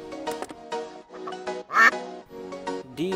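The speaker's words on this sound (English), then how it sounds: "Duck." A duck quacks in a quick run of nasal calls, fairly close and clear, with brief gaps between bursts and no talking.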